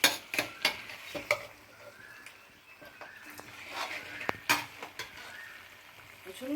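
Cooked vegetables and spices being stirred and mixed in a pan, with scraping and clattering strokes at an irregular rhythm over a soft sizzle, close by and moderately loud.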